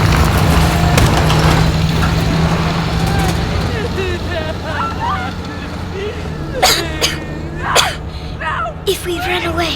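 Harsh, ragged coughing from a character in a Modern Warfare campaign mission set in a hometown, coming as several short bursts toward the end over a steady low rumble of game ambience and other voices.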